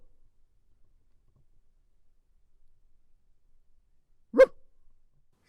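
A single sharp, loud bark rings out after a long stretch of near silence, a person's voice imitating a dog or coyote bark while coyote hunting.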